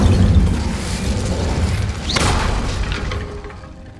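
Incendio fire spells cast repeatedly in Hogwarts Legacy, heard as a dense, loud whooshing roar with a sharp burst near the middle, over a continuous rumbling game backdrop.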